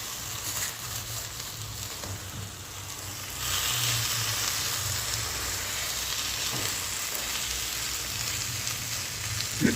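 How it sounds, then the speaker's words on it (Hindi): Grated carrot halwa frying in ghee in a pan, a steady broadband sizzle that grows louder and denser after a few seconds and holds to the end, with no talk. "घी डाल के हम इसे इसके साथ अच्छे से भून लेंगे"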